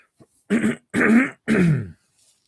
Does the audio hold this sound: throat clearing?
yes